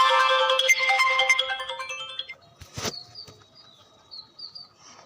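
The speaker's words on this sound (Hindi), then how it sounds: "तभी फोन बजा।" A bright electronic phone ringtone melody plays loudly for a couple of seconds, then fades into a sharp click and faint chirpy tones.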